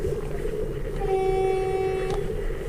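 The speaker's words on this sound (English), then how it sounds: "Which works, the most important bit, the horn" A 50ft project narrowboat's horn gives one steady, loud tonal blast lasting about a second over a low idling engine rumble, cutting off abruptly.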